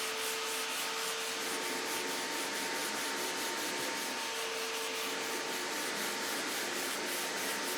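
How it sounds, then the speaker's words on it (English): Automotive body filler is sanded with a hand sanding block in crossing X strokes, making a continuous close, dry, gritty rasp with steady rhythmic back-and-forth scrubbing and no talking. "I like to sand in an X one way and then the other way."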